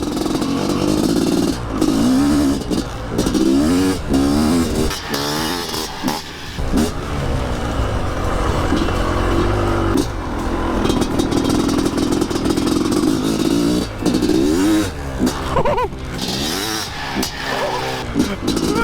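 A 500cc motocross motorcycle engine revs repeatedly, rising and falling in pitch with loud bursts and some clatter, close up throughout.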